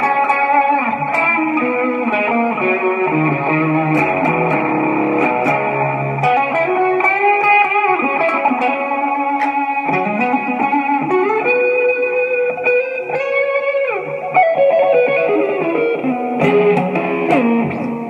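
Electric guitar through an amp with effects: a steady, loud, distorted and reverberant riff with sustained chords and sliding notes, continuous throughout with no talking.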